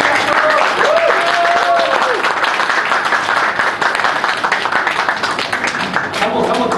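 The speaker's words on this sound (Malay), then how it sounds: "Sama tepuk tangan." Audience applause at a Malay-language business presentation, steady and dense clapping throughout, with a voice talking over it.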